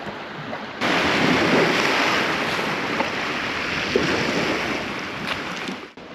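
Broad, steady rush of surf at Town Beach, Exmouth, loud and close, with wind buffeting the microphone and no voices.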